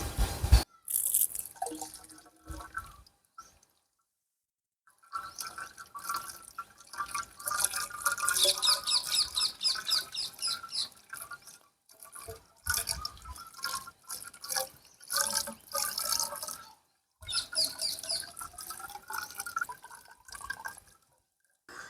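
Water fills a homemade aquarium built inside a tube light housing, trickling and splashing close by in intermittent pours separated by short pauses.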